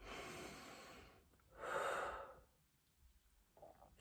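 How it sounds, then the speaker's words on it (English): A person takes a couple of slow, deep breaths, close and quiet: a long inhale-exhale, a pause, then a fuller breath, with faint room hiss between. "Take a few deep breaths."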